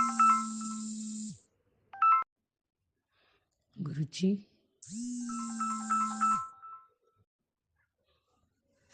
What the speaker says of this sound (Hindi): सॉरी, बीच में शायद फोन आ गया था